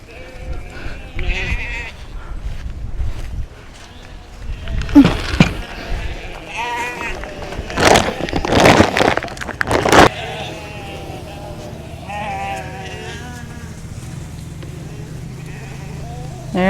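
Several sheep bleat repeatedly, some close and some farther off, mixed with a person calling out and bursts of rustling noise.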